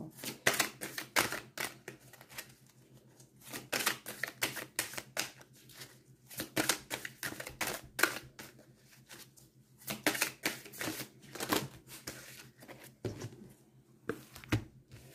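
Tarot-style cards shuffled for a reading, in quick bursts of crisp riffling and flicking that stop and start repeatedly, close and fairly quiet, with no talking.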